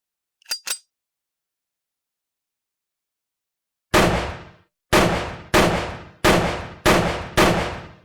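Six loud, sharp gunshots ring out at a target in quick succession after a long silence, each with a decaying ring, preceded by two brief faint clicks.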